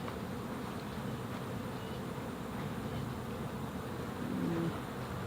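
Honey bees buzz thickly on a hive frame lifted from the hive, a dense, steady droning swarm close by that holds without pause.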